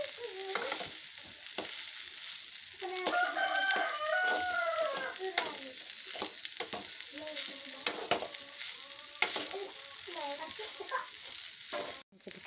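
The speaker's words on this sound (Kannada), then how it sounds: "ಚಂದೊಳಗೆ ಬಾಣ ಒಳಗೆ ಎಲ್ಲ ಮಿಕ್ಸ್ ಆಗಂಗೆ ತಿರುಗಾಡ್ಕೊಳ್ಳೋಣ್ರಿ." A spice mixture sizzles and fries in a pan while being stirred, a steady hiss with scraping strokes, as a rooster crows in the background.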